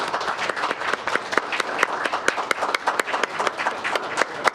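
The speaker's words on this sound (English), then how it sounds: "Okay, let's give them a round of applause." Applause from an audience at a utility district board of directors meeting, many hands clapping steadily and fairly close for several seconds, with no talk over it.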